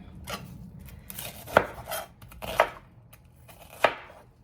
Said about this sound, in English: I'm gonna chop half of an onion.